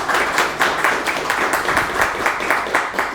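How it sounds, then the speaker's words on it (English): A small audience applauds a land development masterclass guest, a steady patter of hand claps with slightly rhythmic swells, fairly close and continuous with no talk over it. "Can we give him a round of applause"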